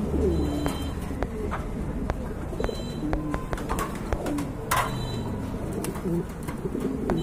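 Pigeons cooing at a pigeon market, repeated soft throaty coos from several birds nearby, mixed with scattered clicks and light knocks from the surrounding stalls.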